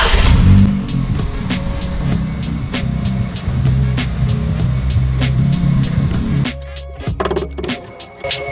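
A Ford Fiesta ST being driven in ahead of a Brembo brake upgrade, its mid-pitched engine rumbling steadily close by with a few revs, then a sharp clatter as it comes to a halt.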